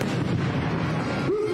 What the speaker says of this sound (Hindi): अस्पताल के दरवाजे को खास तरीके से विस्फोटक लगाकर उड़ा दिया गया।